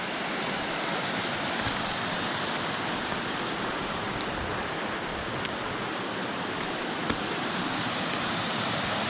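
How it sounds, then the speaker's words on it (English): A waterfall near a campsite in Dolly Sods gives a constant, broad rushing roar, steady and close, with no pauses. "Check out this waterfall right here."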